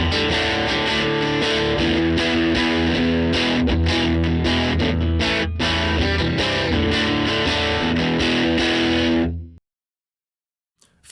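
Electric guitar played through a Fender combo amp model on a Tone Master Pro with jumpered normal and bright inputs, a loud, steady distorted riff with rich harmonics that stops abruptly near the end, leaving silence.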